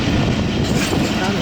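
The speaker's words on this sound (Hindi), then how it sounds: "ये ट्रेन टंडौदम रेलवे स्टेशन पर पहुंच रही है" Awam Express passenger train arriving at Tando Adam railway station, a steady broad rumble of rolling stock and track noise filling the whole moment at close range.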